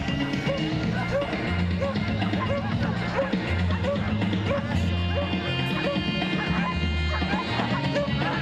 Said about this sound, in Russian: что такое задержание служебной немецкой овчарки